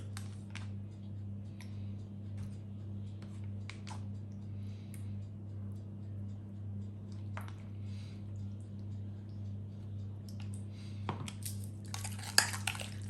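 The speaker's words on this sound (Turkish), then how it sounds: "Karıştırıyorum" A spoon clinks and scrapes around a bowl while garlic, salt and yogurt are stirred together, soft repeated taps over a low steady kitchen hum, with a brief louder clatter near the end.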